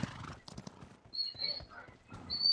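Video game hooves clip-clop in a quick irregular rhythm as a horse gallops, joined by high whistling tones, all fairly quiet and close, with no talking.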